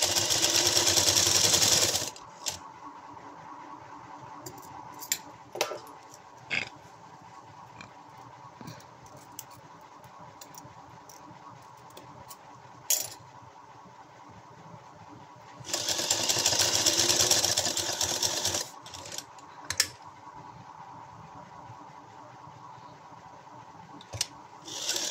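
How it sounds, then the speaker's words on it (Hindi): A sewing machine stitches fabric for a designer sleeve in two fast bursts, one at the start and one later on. Quieter stretches of soft fabric handling and small clicks fall between them. "अब हम इसके ऊपर सिलाई लगाएंगे।"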